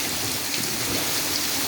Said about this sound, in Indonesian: Wah, Saka main air hujan teman-teman.